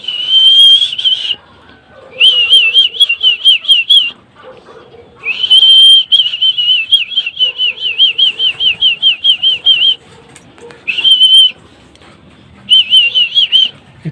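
Someone calls pigeons to feeding with a loud, close, warbling whistle in repeated bursts, some long and some short, separated by short pauses with faint wing flutters between them.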